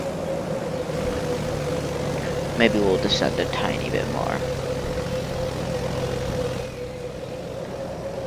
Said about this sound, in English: I'm gonna put the engines at idle.